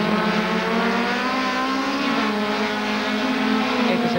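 TC 2000 race cars roar past on the General Roca circuit in a loud, continuous engine howl. Overlapping engines rise and fall in pitch as they pass close by, with no talking.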